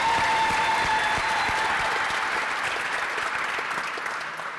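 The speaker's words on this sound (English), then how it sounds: "let's give him a real round of applause" Dense, loud audience applause at a redistribution center opening event, continuous clapping from a sizable crowd that gradually tapers off.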